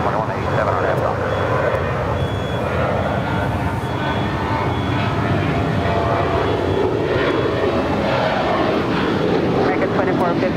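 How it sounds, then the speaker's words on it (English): A United Airlines Boeing 737-900ER takes off from runway 25 right at LAX, bound for San Francisco. A steady, broad jet roar holds throughout, with tower radio voices talking over it. "Our next departure on 25 right is United Airlines Flight 2035, heading to San Francisco to 737-900 ER."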